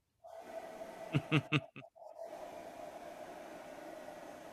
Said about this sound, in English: Is he sniffing the air?